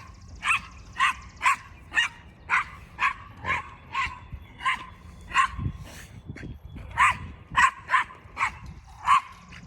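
A small dog barks repeatedly at play, a steady run of sharp yapping barks with short pauses, fairly close and clear over light outdoor background noise.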